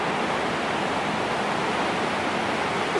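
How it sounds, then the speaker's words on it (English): A chocolate waterfall on the Charlie and the Chocolate Factory film set, a constant dense rushing roar of falling liquid, loud and unbroken with no talk. "The waterfall is most important. Mixes the chocolate, churns it up."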